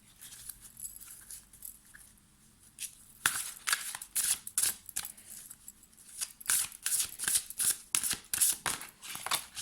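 Oracle cards being shuffled by hand for a reading, a quiet start followed by a run of crisp, rapid riffling and slapping bursts, close to the listener, with no speech.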